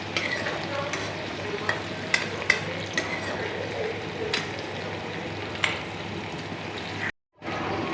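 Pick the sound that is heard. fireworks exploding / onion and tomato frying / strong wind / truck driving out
onion and tomato frying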